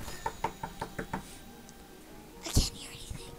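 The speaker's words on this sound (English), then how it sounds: "can I make a knocking sound so it'll like bark" A child knocks about seven times in a quick, even rhythm on a hard surface, nearby, followed by a sharper thump, with faint whispering.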